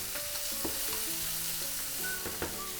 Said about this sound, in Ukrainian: бекон каже, що він смажиться і все в нього добре